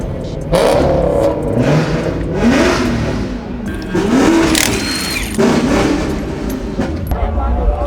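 A Honda S2000 with a turbocharged K24 engine revs hard and rises in pitch several times, loud and close, with voices talking over it.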